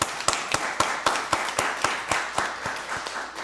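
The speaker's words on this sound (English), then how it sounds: "Let's give them another round of applause." Applause for the public relations staff at a county board of commissioners meeting: crisp, evenly spaced claps, loud and close, fading slightly toward the end.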